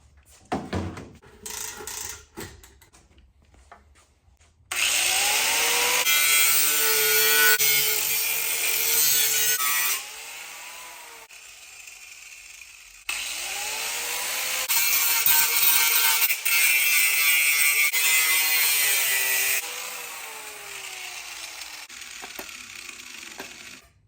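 A drill bores into aluminum during a 1985 Honda ATC70 125cc upgrade build. Loud, sustained whining bursts of drilling, each several seconds long with short pauses between, follow some scattered handling clatter at the start.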